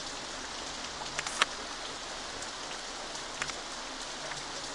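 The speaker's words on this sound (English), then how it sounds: "it's raining and therefore this will not be good for our park" Steady rain pours down across an amusement park, a dense even hiss of drops on surfaces with a few sharper taps and drips standing out now and then, no voices present.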